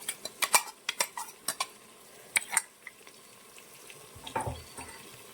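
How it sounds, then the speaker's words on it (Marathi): Khichdi filling of dal, potato and coriander-garlic paste is stirred and sautéed in a pan over low gas, with a string of sharp spoon scrapes and knocks over a faint, quiet sizzle. "कमीत कमी हे सारण आपल्याला लो गॅसवर पाच मिनटं तरी परतून घ्यायचं आहे"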